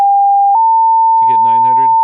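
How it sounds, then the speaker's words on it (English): A steady 800 hertz sine test tone sounds loud and continuous throughout, shifting slightly in pitch partway through, while a voice speaks over it near the end. "I go up to, say, 800 hertz"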